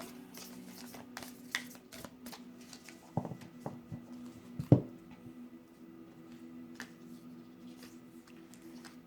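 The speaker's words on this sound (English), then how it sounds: "I shuffle them with the words facing me" Soft, quick riffling and tapping of a deck of cards being shuffled, close up, with a few sharper snaps among the papery shuffles.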